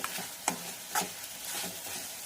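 Tomato and spices for moong dal frying in a pan give off a soft continuous sizzle, broken by a few scraping stirs of the spoon, heard close and alone.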